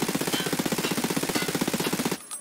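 An MP7 loaded with subsonic rounds fires in Escape From Tarkov as one sustained full-auto burst of about two seconds, rapid even shots close and loud, then stops abruptly.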